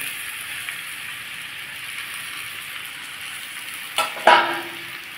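String beans frying in a pan with roasted spices give a steady, even sizzle throughout, broken near the end by a couple of brief knocks or scrapes.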